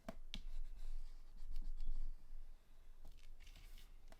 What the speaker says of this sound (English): take my bone folder here and just give that a really good press